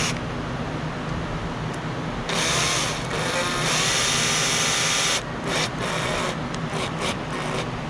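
Cordless electric screwdriver set to torque 4, speed 1 drives a screw into a workpiece, a steady mechanical whir with ratcheting clicks, rising louder for a few seconds mid-run and pausing briefly near the end, close and alone.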